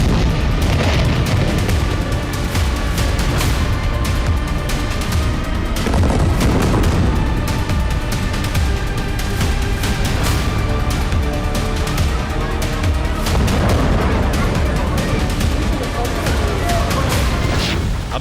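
Heavy bombardment of Gaza, with a dense, continuous roar of blasts and rumbling booms that fills the whole stretch loudly and leaves no quiet gaps.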